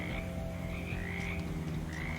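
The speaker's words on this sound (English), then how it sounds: "Just ribbits." Frogs croak and ribbit in the video game Shadows Over Loathing, a steady chorus of repeated calls at moderate level with a low hum beneath and no talking.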